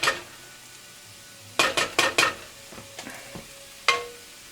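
Vegetables frying in a pan for an egg burrito, a soft steady sizzle broken by several sharp clanks and scrapes of a utensil stirring against the pan, close and without talk.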